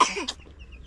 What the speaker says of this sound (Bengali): এই তো কাশি হচ্ছে, মানে ঠান্ডা লেগেছে মনে হয়।